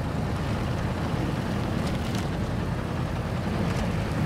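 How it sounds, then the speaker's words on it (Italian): A steady, throaty truck engine rumble in a video game drones on without a break, loud and close, with a faint hiss riding over the low roar. "Senti, senti sto motore come viaggia."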